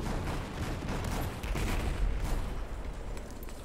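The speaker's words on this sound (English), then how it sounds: "Shoot me with machine gun." Sustained, dense gunfire from a Battlefield 4 match, loud and continuous with rapid overlapping shots throughout, consistent with machine gun fire in the game.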